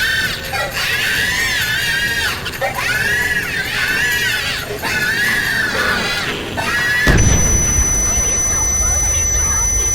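A monkey bomb thrown into a furnace in a zombies video game, giving repeated high, wavering shrieks in rising and falling bursts, then a sudden harsh crash and roar as the screaming stops.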